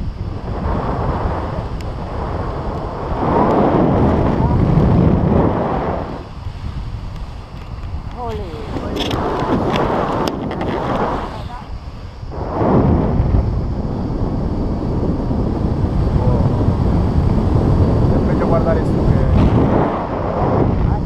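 Strong southerly and south-westerly wind roars in waves against the microphone in flight, swelling and easing in long gusts over a steady low rumble, with a voice speaking briefly in between.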